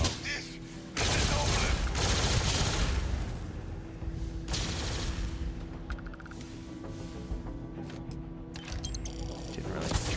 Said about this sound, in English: No, I gotta go shoot the wall now.